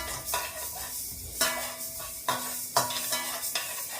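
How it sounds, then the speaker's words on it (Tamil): Fenugreek seeds dry-roasting in a pan, with a continuous soft hiss and a spatula scraping and stirring at regular moments, close and fairly quiet, with no talking. "இப்போ வெந்தயத்தை நல்லா பொன்னிறமாகும் வரை நாங்கள் வறுத்தெடுப்போம்"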